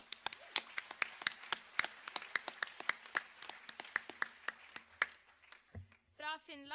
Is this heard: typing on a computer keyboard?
no